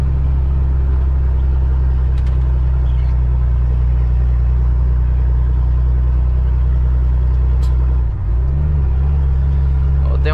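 A car engine labors up the Serra do Tombador mountain road near Jacobina, Bahia, held in low-range fourth gear, a steady loud low rumble that barely varies and runs throughout, with faint voices in the background.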